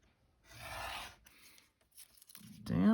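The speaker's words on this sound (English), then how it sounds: "So I'll trim that off." Blade rasping through paper pages on a cutting mat, a few short close scraping strokes separated by quiet pauses, ending in a louder rub.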